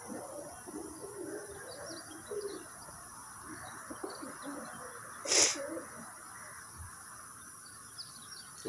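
Pigeons coo softly in the background amid faint chirps, with a brief sharp rustle partway through; no one speaks.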